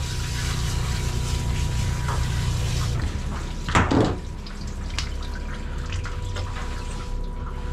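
Water soaks a dog's coat during mobile grooming, a steady rushing spray with a brief louder splash partway through, close up and continuous throughout.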